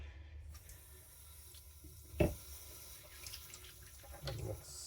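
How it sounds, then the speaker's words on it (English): Water poured or splashed onto a Pro 5K sharpening stone, a soft wash of trickling over steady background noise with one brief louder splash near the middle. "So let's just give it some water."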